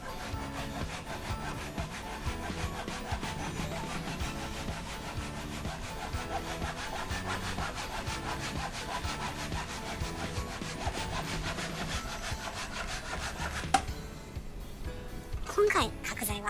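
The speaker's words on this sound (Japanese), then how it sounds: "サクサク切っていきましょう。" A hand saw cuts squared wooden lumber for a DIY work desk, with rapid, steady back-and-forth rasping strokes up close that run continuously and then stop near the end.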